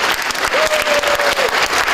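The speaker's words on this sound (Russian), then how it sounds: "Я думаю, что вы заслужили аплодисментов прямо сейчас." An audience in a hall at a Culture Workers' Day celebration applauds, a dense, loud, steady wash of clapping with a faint sustained tone in the middle.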